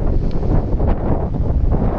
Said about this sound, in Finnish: Tää tuuli on inhottava.